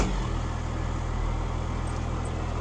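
A Cummins diesel engine swapped into a Chevy truck idles steadily, a low continuous rumble close by with no talking.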